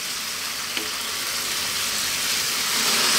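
Chicken tomato cream sauce simmering in a pan, a steady bright hiss and crackle of bubbling, continuous and close, growing slightly louder toward the end.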